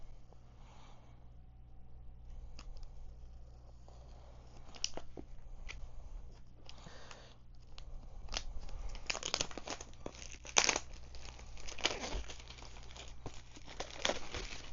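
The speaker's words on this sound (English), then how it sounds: "So, opening plastic up." Plastic packaging on an Insta360 Flow 2 being handled and opened, giving irregular close crinkling and crackling with a few sharp tearing bursts, faint at first and busier and louder toward the end.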